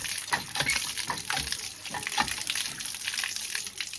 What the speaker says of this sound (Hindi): और गाइस अब धोते हैं इसको, फिर खाते हैं हम टेस्टी टेस्टी अमरूद।